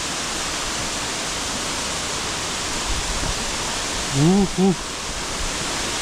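A waterfall in a valley (Yunsen Falls / Sister Falls) pours in a loud, steady roar, and a voice briefly calls out twice over it near the end.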